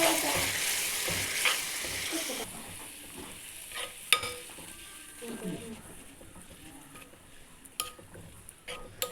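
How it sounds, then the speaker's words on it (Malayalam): Carrot and curd mixture stirred in a pan, the spoon scraping and clinking against the metal in irregular strokes over a soft background hiss, with a few sharper knocks. "ശരിക്കും ഒന്ന് ഇളക്കിയെടുക്കുക."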